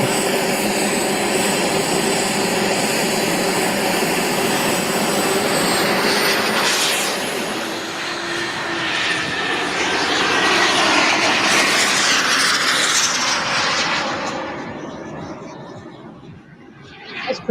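Two RC model B-1B bomber jets taxiing together on an airfield make a loud, steady turbine roar that swells and then fades as they move away, with faint voices in the background.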